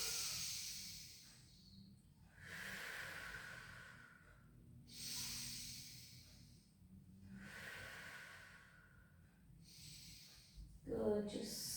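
Slow, deep breaths during a pilates exercise, each long inhale and exhale rising and fading in a steady rhythm four or five times, close and soft, with no talk over them.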